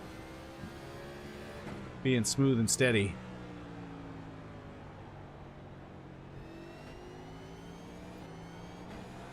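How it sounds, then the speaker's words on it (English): A race car engine at Martinsville in iRacing hums at low level, with a short, sharp burst of revs during a downshift near the middle, while a commentator speaks over it. "as Brian downshifts, he's waiting all the way to the concrete, nowhere near the red line"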